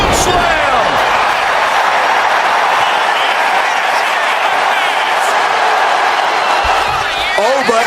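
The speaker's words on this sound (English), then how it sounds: "What a raucous crowd here tonight" A raucous wrestling arena crowd roars steadily throughout a live match, a dense wall of cheering and shouting, with a commentator talking over it.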